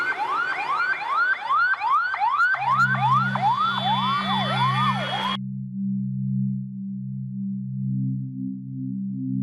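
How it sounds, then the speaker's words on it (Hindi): A wailing siren rises and falls rapidly for several seconds, then cuts off, followed by a low, steady two-tone horn pattern that continues alone. "तविश, एम्बुलेंस बुलाओ, बॉडी पोस्टमार्टम के लिए भेजो अभी के अभी।"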